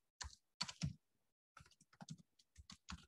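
Fingers type text on a computer keyboard at a Linux terminal in short bursts of crisp, close clicks separated by brief pauses, quiet and with no voice.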